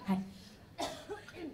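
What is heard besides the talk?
cough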